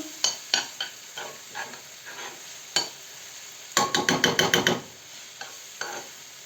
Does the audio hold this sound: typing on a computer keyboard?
no